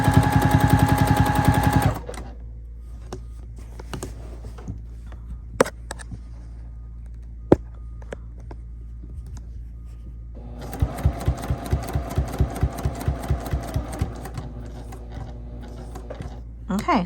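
A sewing machine stitches a quilt binding strip. It starts in a fast, loud mechanical whir, goes quiet with a few clicks and handling sounds, then resumes in a steady rapid stitching rhythm near the end.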